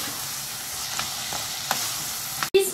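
Vegetable nem filling with an Indian spice mix fries in a pan with a continuous hissing sizzle and a few stirring scrapes, broken by a brief cut and a sharp clunk at the end.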